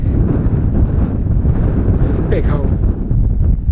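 Strong wind buffets a microphone outdoors on a walk along a disused railway line toward a railway cutting. A loud, steady rumbling roar fills the whole stretch, and someone speaks briefly beneath it.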